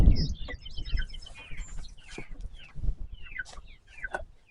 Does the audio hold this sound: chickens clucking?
yes